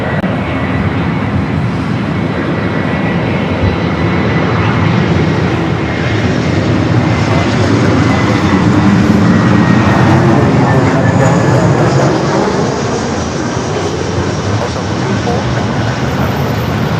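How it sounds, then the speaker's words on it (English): An Airbus A350-900 airliner arriving from Rome at LAX, its engines producing a steady, loud roar throughout, swelling slightly midway as the jet passes close overhead. "A350-900 coming in from Rome."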